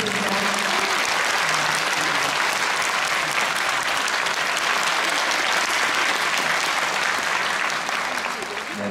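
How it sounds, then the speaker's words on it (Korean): A large audience at a navy anniversary concert in Olympic Hall gives loud, dense, sustained applause that tapers slightly at the end. "큰 박수 부탁드립니다."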